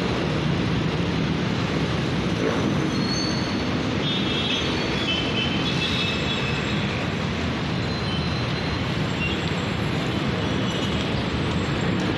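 An LRT Line 2 train passes along Marcos Highway at rush hour, its broad rumble and wheel noise steady and fairly loud throughout, with faint squeals.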